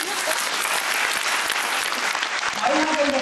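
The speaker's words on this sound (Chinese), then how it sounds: "我要给你一个掌声。" A Taipei spring diamond sales seminar crowd bursts into loud, sustained applause, dense clapping filling the hall from start to finish with voices mixed in.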